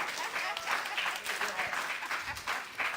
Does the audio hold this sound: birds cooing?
no